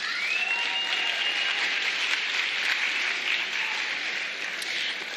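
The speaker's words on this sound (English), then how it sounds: "Please give these students a round of applause." A large audience at a talent show claps steadily and evenly for several seconds, dense applause with no pauses.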